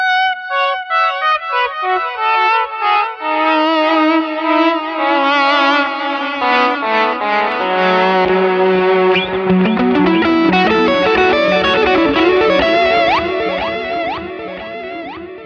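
Electric guitar played through a Fractal FM3 modelling a Deluxe Reverb amp, with Seymour Duncan JB and 59 pickups on a Charvel San Dimas; a sustained stream of chords and single-note lines with echo and reverb, loud and steady with no talk.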